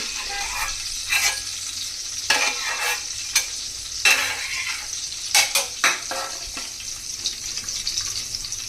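Pieces of seer fish fry in a pan with a steady sizzle, broken by repeated scraping and stirring clinks from a utensil, close and alone without talk.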